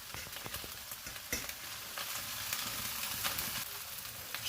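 Egg fried rice with soy sauce and spring onions sizzling steadily in a hot pan, with a continuous crackling fry and occasional scrapes of stirring, close and moderately loud with no talking.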